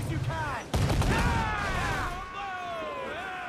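Ship cannons boom in a naval battle video game, a heavy blast cutting in under loud shouting voices, followed by continuing rumble and crew calls.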